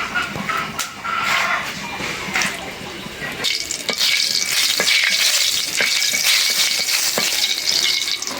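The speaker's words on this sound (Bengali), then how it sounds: "আমরা যে কোনো ভাজি করাতে প্রথমেই শুকনো মরিচ দিই" Dried red chilies frying in hot oil in a home kitchen, a crackling sizzle that swells louder midway and keeps hissing steadily, with brief stirring clinks throughout.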